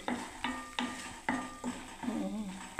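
Masala spice paste fries in oil in a covered pot for a Bengali shukto, with scraping stirs every half second or so over a steady low sizzle, close and moderately loud.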